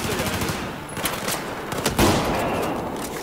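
Shotgun fire in the Battlefield 4 video game, a string of sharp gunshot blasts with a heavier burst near the end, close and loud amid combat noise, a voice briefly audible.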